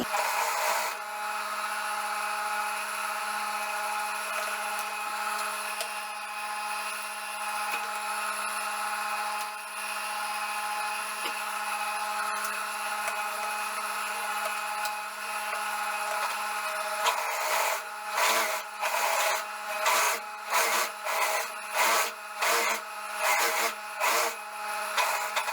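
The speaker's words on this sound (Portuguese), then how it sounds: "Agora eu vou passar aqui a costura em toda a volta da tira." A sewing machine runs a seam around a fabric strip for elastic shorts, first as a steady motor hum and then as a quick rhythmic series of short stitching bursts near the end.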